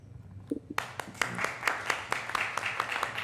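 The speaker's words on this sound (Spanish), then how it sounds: "Te damos un aplauso desde acá de Santiago y también a todas las personas que están conectadas" After a quiet moment, a small audience in Santiago breaks into steady applause for a speaker's presentation. The claps stay dense and fairly even, with scattered individual claps standing out.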